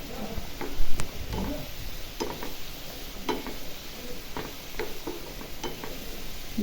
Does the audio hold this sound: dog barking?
no